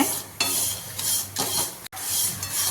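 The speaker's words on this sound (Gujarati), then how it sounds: "ધીમા ગેસે આપણે આવી રીતે ઘીમાં શેકી લેવાની છે" Mango seed kernels roasting in ghee in a pan over a low flame, a continuous soft sizzle with rhythmic stirring and scraping swells repeating about every half second, close by.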